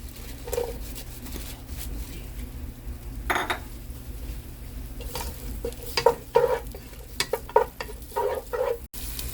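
Onion hits hot oil in a pot for spicy and sour water spinach with fish, a steady sizzle under repeated clinks and scrapes of a utensil stirring against metal, close by and without talk.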